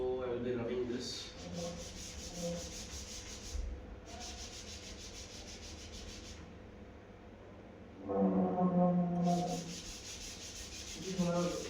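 Writing is rubbed off a board in repeated back-and-forth strokes, a close, raspy scrubbing that comes in several bursts with quiet gaps between them.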